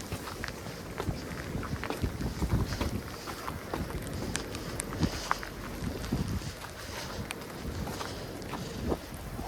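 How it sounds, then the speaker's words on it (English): Wind gusts and rumbles against the microphone during a snowstorm on a downtown Toronto street, with crunching footsteps and scattered bursts of noise throughout; no one speaks. "It's been a while since I've done a video blowing snow of all things."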